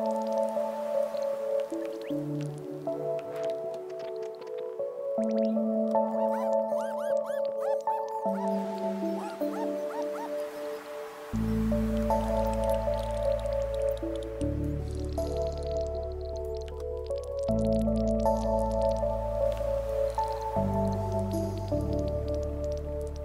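Rain in Stardew Valley on mobile, a soft, steady patter of drips playing under a continuous melodic game music track with shifting tones and a deep bass line entering midway.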